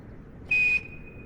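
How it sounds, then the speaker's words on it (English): A single clean electronic cockpit beep in a King Air 350i in Microsoft Flight Simulator 2020, one steady tone lasting about a third of a second over faint background hum. "There's our familiar beep."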